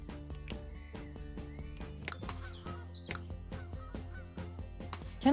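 Geese honking in the zoo-building video game Let's Build A Zoo, with repeated short honks in an uneven rhythm over a steady, low, tonal game backdrop, at a moderate, even level.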